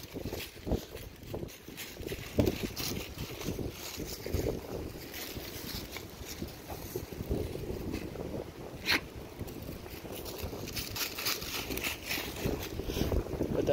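Strong wind blows across the microphone outdoors on a field trail with a basset hound tracking, a fairly quiet but constant rumbling buffet with occasional gusts and faint rustles.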